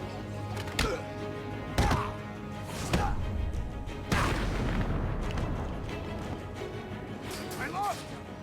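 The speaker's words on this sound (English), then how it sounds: "Grenade!" Grenade explosion in the video game Batman: Arkham City, with several heavy booms and crashes about a second apart, loud and close, amid shouting voices and combat noise.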